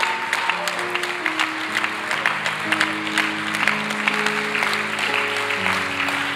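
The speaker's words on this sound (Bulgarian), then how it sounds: "ако ръкопляскаш, ръкопляскаш, че наистина вярваш" A church congregation claps steadily and rhythmically together, a dense, even patter that runs throughout beneath sustained musical tones and some voices.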